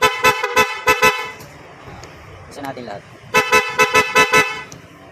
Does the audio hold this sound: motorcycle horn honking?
yes